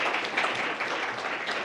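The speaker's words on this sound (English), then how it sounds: "Let's give them a round of applause if we could." A school board meeting audience gives a short, steady round of applause, dense clapping at moderate level with no talking over it.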